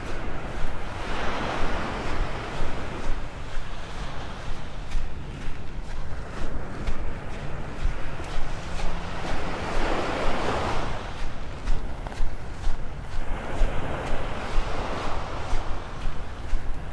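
Surf rolls in on Pelican Bay Beach in North Naples, Florida, with broad swells of washing waves building and receding several times over steady wind noise, close and fairly loud, with no talking.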